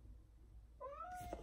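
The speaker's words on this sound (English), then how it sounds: "Kitty, kitty, kitty. Come on." Indoors, a cat gives a single thin, rising-then-level meow, fairly faint and somewhat distant over a low room hum.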